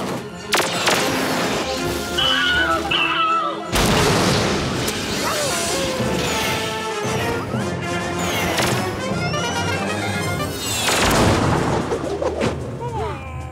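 Cartoon spaceship weapons fire in repeated loud booming blasts and crashes during a space chase, mixed with music and effects.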